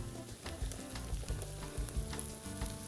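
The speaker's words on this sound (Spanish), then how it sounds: "vamos a incorporar la zanahoria para que se vaya sofriendo" Garlic and carrot sizzle steadily in hot frying oil, a dense continuous crackle with soft stirring knocks, close and alone without any voices, while a hearty Spanish potaje serrano is being prepared.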